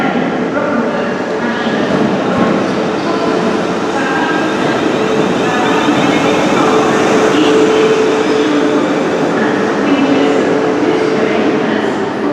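A South Western Railway train at Bournemouth station, with a loud, steady rumble and rolling wheel noise that continues unbroken, close by.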